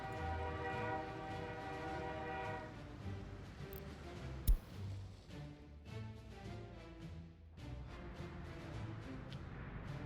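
Trains in the video game Workers & Resources: Soviet Republic, set in a tundra biome: a loud sustained horn blast for about three seconds, then a rumbling engine with clacking, hissing bursts and a brief sharp bang, with no talking.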